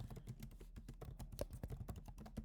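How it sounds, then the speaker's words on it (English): Computer keyboard typing code, a quick steady run of soft clicking keystrokes, close and fairly quiet with no talking. "I will quickly type the whole component code."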